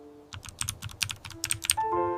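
Quick, uneven clicks of typing on a computer keyboard, a burst of close keystrokes with short pauses, ending in a brief tonal sound.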